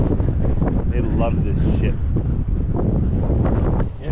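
Strong wind on a lake buffets the microphone with a low roar as someone talks over it.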